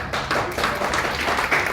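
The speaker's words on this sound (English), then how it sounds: "Can we have a round of applause" A short burst of audience applause at a talk on new taxation norms for NGOs, many hands clapping together in a dense, steady patter.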